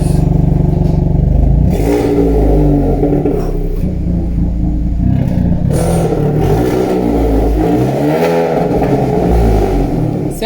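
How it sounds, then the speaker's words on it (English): A 2022 Hyundai Veloster N engine revved repeatedly while parked, loud close rumbling exhaust swelling and dropping in several blips with some clattery mechanical noise. "Give her some revs."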